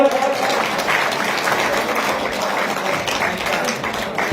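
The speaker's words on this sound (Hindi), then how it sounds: "जोरदार तालियां।" Steady applause from a crowd at the final ceremony of the Vipra Premier League season 3 cricket tournament in Gangapur City, with dense continuous clapping and faint voices mixed in.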